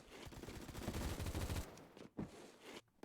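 AK rifle firing 7.62 rounds in a video game, a rapid burst of automatic gunfire with closely spaced shots for about a second and a half, then two separate single reports.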